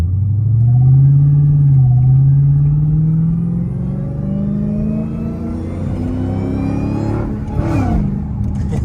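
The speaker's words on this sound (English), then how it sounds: "when y'all in eco mode, the whine is louder. You know, it limits the exhaust sound" An 820hp Dodge Hellcat Redeye in eco mode pulls with a rising supercharger whine over a muted, rumbling exhaust, close and steady, then eases into a lower drone.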